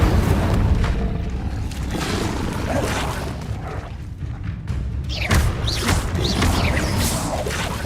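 Spell casting and explosive effects from the video game Hogwarts Legacy, a dense run of booms, crashes and whooshes, loud and continuous with fizzing bursts in the second half.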